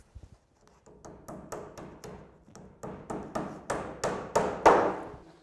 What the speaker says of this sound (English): I'm using a large-headed galvanized clout, not a staple.